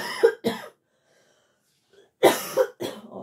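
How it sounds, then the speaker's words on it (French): A person coughs twice, briefly pauses, then gives three more harsh coughs with a throaty rasp, close and fairly loud. "Oh, je m'excuse, ma toux revient."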